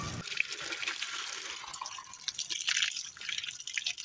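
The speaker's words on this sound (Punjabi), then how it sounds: "ਆਲੂ ਹੁਣ ਧੋ ਲੈਂਦੇ ਹਾਂ, ਕਿਉਂਕਿ ਆਲੂ ਬਹੁਤ ਮਿੱਟੀ ਨਾਲ ਭਰੇ ਹੋਏ ਆ।" Muddy potatoes being washed by hand in water in a Pakistani village kitchen, with steady splashing and dripping close by and no talk.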